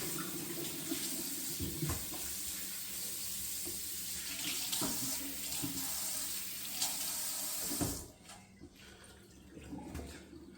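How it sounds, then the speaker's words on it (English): Cold tap water runs steadily over a brisket in a sink, a continuous splashing stream that cuts off near the end, leaving faint drips and handling sounds. "Rinse it in cold water."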